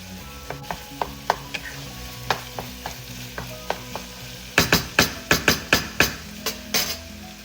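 A knife chops through ground pork on a cutting board in quick, irregular knocks, close and clear, growing louder and faster toward the end over a faint sizzle from the stove.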